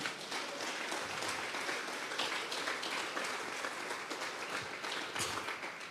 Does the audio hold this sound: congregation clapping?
yes